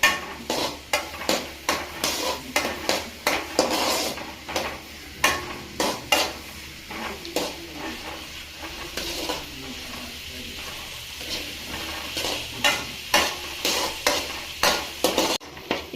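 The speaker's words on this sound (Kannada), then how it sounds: "ಆನಿಯನ್ ಟ್ರಾನ್ಸ್ಪರೆಂಟ್ ಆಗೋವರೆಗೂ ಫ್ರೈ ಮಾಡಿ" Onions fry with salt in a pan as a spatula stirs and scrapes in quick repeated strokes over a continuous low sizzle, close and fairly loud, with a quieter pause midway.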